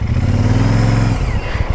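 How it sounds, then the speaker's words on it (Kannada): A motorcycle climbs the road up BR Hills in the Western Ghats, its engine a loud close drone that holds steady, then eases off with some clatter. "ಬೆಟ್ಟದ ಮೇಲೆ ಬೈಕ್ನ ಹಚ್ಕೊಂಡು ಹೋಗ್ತಾ ಇದೀವಪ್ಪ."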